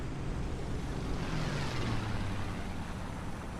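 Loud, droning engine roar of propeller aircraft in the video game War Thunder, a steady rumble with a slight rising hum, no voices.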